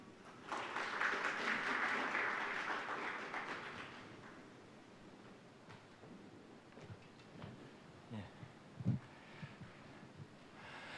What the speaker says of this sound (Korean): 먼저 홍장표 KDI 원장님의 개회사가 있겠습니다. 박수로 맞이하여 주시기 바랍니다.